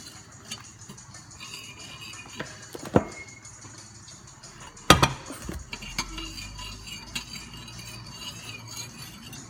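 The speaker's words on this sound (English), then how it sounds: "you're just gonna mix the borax mixture until it almost looks like it dissolves" Borax mixture for clear slime being stirred in a bowl, light scraping and clinking of a utensil with two sharp knocks, fairly quiet and close.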